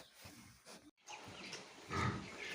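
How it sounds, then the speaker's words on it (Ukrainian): Pigs in a farm pen snuffle and grunt at low volume over steady background noise, with one brief drop to silence partway through. "Ось такі наші тут свинки."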